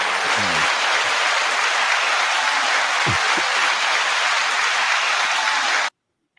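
Audience applause breaks out for a guest at a music-industry culture event panel, steady dense clapping sustained for about six seconds before cutting off abruptly.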